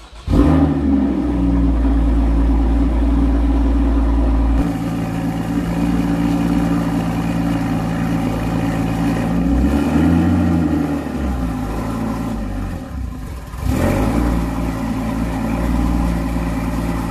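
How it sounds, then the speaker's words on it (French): A car engine idles and revs steadily as the vehicle backs up onto wheel chocks to raise its rear end, with a louder low rumble at the start and short bursts of acceleration throughout. "on n'a plus qu'à reculer, ce qui va permettre de surélever la partie arrière du véhicule"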